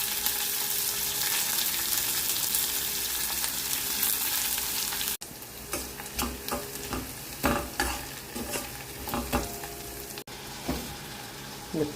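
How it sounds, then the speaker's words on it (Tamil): Mustard seeds, curry leaves, ginger and garlic hit hot oil in a home kitchen in Dubai, giving a steady loud sizzle that drops after a cut into a crackling fry with sharp spluttering pops and stirring scrapes. "இந்த கடுகு போட்டும்போது தான் சபாக்குன்னு தெளிச்சிச்சுப்பா."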